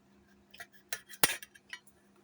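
A knife slices a mango on a cutting board, giving quiet, close taps and clicks, with one sharper knock in the middle of the faint, brief chopping.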